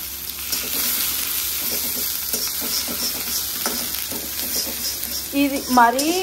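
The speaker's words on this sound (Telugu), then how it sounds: "ఇప్పుడు ఐరన్ బాండీ పెట్టాము, ఆయిల్ వేసి ఒక నిమిషం ఐరన్ బాండీ గార్లిక్ వేసుకున్నాం. సో ఇప్పుడు ఆనియన్స్" Garlic and onions sizzle in oil in an iron pan, a steady close fry with stirring scrapes through it, and a voice briefly speaks near the end.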